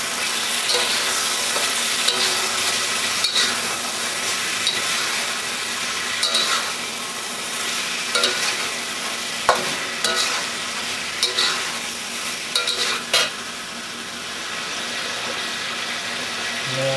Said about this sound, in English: And at this point, a tablespoon or two of ginger.